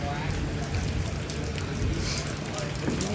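Heavy downpour outdoors in Vietnam during stage setup: a dense, loud, continuous hiss of rain striking surfaces, steady throughout.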